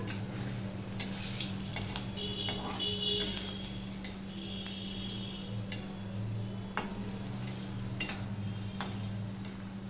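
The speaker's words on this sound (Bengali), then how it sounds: "এবার আমি এই ধোকাগুলো ভেজে নেব।" Dhoka lentil cakes frying in hot oil in a kadai, a soft steady sizzle with occasional utensil clicks and a low background hum, faint and close.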